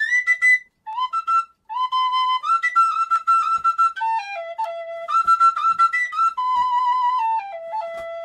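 A tin whistle plays a bluesy phrase of short bent notes and sliding runs, bright and close, alone with no voices.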